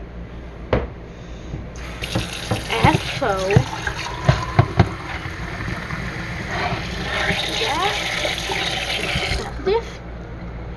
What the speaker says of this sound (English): You need to replace the water with fresh hot water,